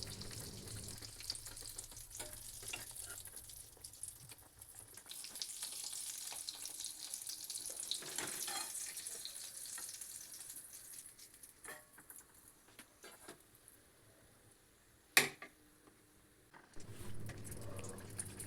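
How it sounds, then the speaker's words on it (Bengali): Pea-stuffed kachori fry gently in oil in a pan, a soft continuous sizzle and bubbling with small stirring and turning noises and one brief sharp clink near the end. "এরপর হালকা হালকা করে আমি এটা ভাজতে থাকবো এপিট ওপিট করে।"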